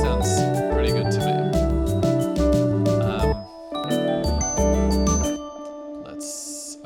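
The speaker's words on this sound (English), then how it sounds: "these bells are just too much" Bright jingling bell tones ring out within a dense Ableton music mix, layered over sustained harmonic instruments and low bass, with a brief dip near the middle before the bells return.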